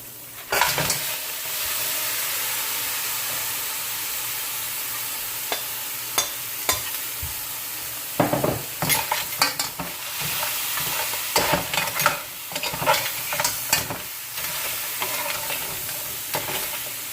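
Crab sizzles and hisses steadily in a hot pot with garlic, onion, scallion and Scotch bonnet pepper for a Jamaican-style curry, punctuated by repeated scraping clatters of stirring, close and loud, with no talking.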